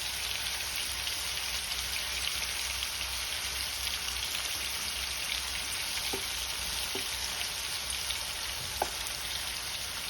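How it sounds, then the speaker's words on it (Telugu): Onion frying in a pan of Telugu-style bitter gourd curry, a steady soft sizzle and crackle throughout with a few faint pops, fairly quiet and close, no talking. "ఉల్లిపాయ కూడా బాగా వేగినట్టు తెలుస్తుంది."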